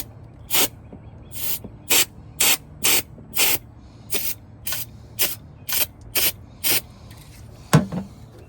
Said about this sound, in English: So got some electric parts cleaner here. I'm gonna try to spray in there.